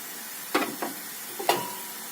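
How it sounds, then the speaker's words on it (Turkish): A lid set onto a pot of sautéing diced meat for Turkish et sote, two short clanks about a second apart, the second ringing briefly, over a faint steady kitchen hiss. "tenceremin kapağını örtüyorum"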